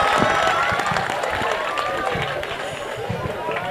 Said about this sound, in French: Est-ce qu'on peut applaudir notre brillant maître de cérémonie?